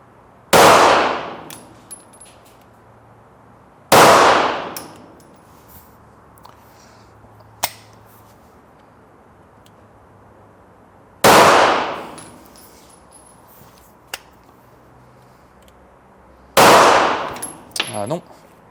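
An Italian Nuova Jager GMP9 pistol fires four loud, sharp shots spaced several seconds apart. Each shot has a brief ringing, metallic tail as the slide cycles, and small clicks fall between the shots.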